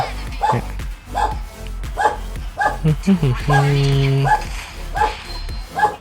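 A dog barks again and again in short, steady bursts about twice a second, fairly close, while someone talks over it.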